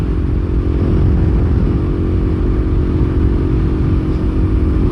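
A KTM 390 Duke single-cylinder motorcycle ridden at night on rural roads, its engine droning loudly and steadily at near-constant revs throughout, with wind and road noise and no speech.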